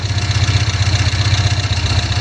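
A Volvo 1800S engine settles into a steady idle after a cold start on the choke, its low, even throb running continuously, close and loud, with no other sounds.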